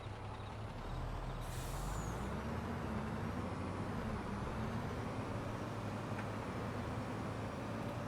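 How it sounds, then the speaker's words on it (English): Grain truck engine in the Farming Simulator 22 video game, a steady, loud diesel drone with a rising low rumble as it pulls away, plus a brief air-brake hiss near the start. "I love the sound of this grain truck"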